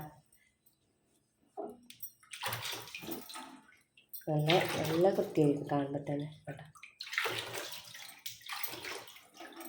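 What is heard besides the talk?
rinsing a gas stove with water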